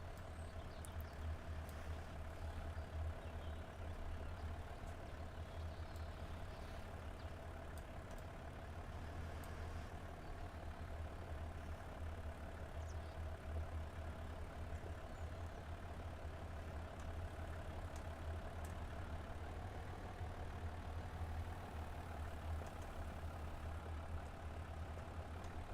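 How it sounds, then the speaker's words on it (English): Tractor driving in the Farming Simulator 25 game, a low, steady diesel engine drone with a faint higher whine running the whole time, even and unbroken, no speech. "Look how smooth my tractor's driving up."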